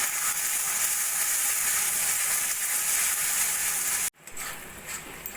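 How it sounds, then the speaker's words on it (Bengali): Ground spice masala with salt, turmeric, cumin powder and Kashmiri chili powder sautéing in oil in a pan, a steady loud sizzle and hiss for about four seconds that cuts out abruptly, then resumes more faintly with stirring, no voices. "এবার আমি ভালো করে মশলাটা কষিয়ে নেব"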